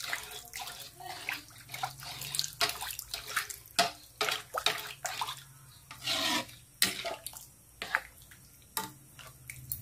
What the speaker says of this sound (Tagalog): Tuloy-tuloy na po ang pag-ano natin, ang halo hanggang siya ay kumulo.